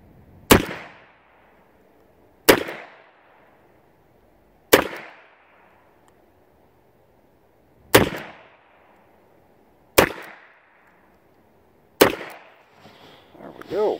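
Six loud, sharp gunshots from a Rock Island Armory M200 revolver fired double action, spaced about two seconds apart, each with a short decaying echo outdoors. A voice starts speaking right after the last shot.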